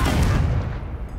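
A Confringo blasting spell cast in Hogwarts Legacy gives a single loud, low boom that rumbles and fades over about a second, alone with no voices.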